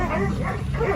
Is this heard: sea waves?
no